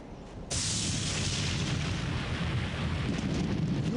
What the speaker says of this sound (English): You won't have to deal with the loud lightning soon.